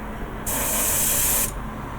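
A single one-second burst of gloss primer from a spray can hisses onto a 1/25 scale MPC KITT Knight Rider model car kit, close and steady, starting and stopping abruptly.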